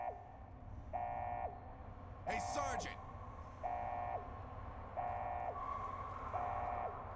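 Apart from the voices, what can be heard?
alarm sounding in the video game Fallout New Vegas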